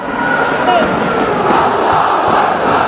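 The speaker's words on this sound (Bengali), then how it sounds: "জাস্ট সাউন্ড শুনুন, নারায়ে তাকবীর, আল্লাহু আকবার" A dense stadium crowd roars and chants "Naraye Takbir, Allahu Akbar" during a Bangladesh versus Azerbaijan football match, a steady, loud wall of massed voices with no single speaker standing out.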